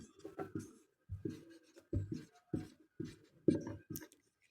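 Writing during a Sanskrit lesson: a series of short, scratchy strokes in an irregular rhythm, each lasting a fraction of a second, close and fairly quiet, with brief silences between them.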